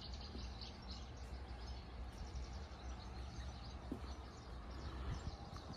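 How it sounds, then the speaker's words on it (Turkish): Faint bird chirps scattered over steady outdoor background noise at a stone house in an olive grove in Ayvalık, with a constant low hum throughout. "Kuş sesleri."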